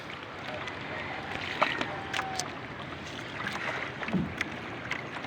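A fishing boat heading out to sea, with a steady rushing wash of water and wind close by and brief indistinct voices over it.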